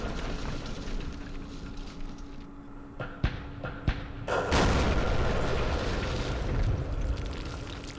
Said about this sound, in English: Oh, look at the guns hit.